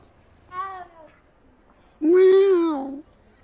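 A cat meows in the video game Hogwarts Legacy: a faint short mew, then a louder, drawn-out meow about a second later, alone against a quiet background.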